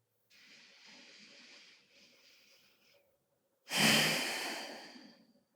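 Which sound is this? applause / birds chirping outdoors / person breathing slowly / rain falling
person breathing slowly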